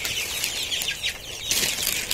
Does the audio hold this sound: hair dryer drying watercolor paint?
no